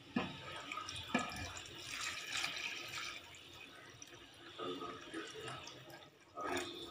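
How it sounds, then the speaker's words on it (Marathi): Heated water poured into a pot of mixed vegetable and mixed dal khichdi, a steady splashing pour running for several seconds, close and moderately loud with a few surges near the start and end. "आता आपण यामध्ये हे जे गरम केलेलं पाणी आहे ते टाकूया"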